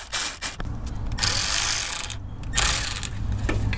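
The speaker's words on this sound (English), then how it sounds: "So to make it easier on me, I'm going to use my cordless ratchet." A cordless ratchet whirs in bursts while turning the belt tensioner adjuster on a Toyota 5VZ-FE 3.4L V6 engine to slacken the AC belt, with close, buzzy mechanical clicking and two louder sustained runs.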